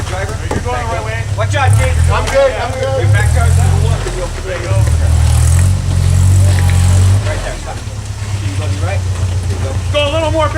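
An off-road vehicle engine rumbles steadily as it backs up over a rocky obstacle, its low drone swelling with the throttle while several people talk and shout over it.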